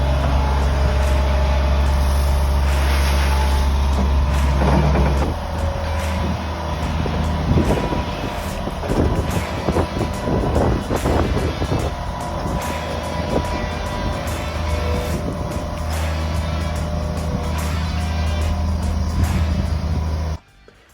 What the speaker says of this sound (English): you could go to your local hardware store and rent a plate compactor like we have in this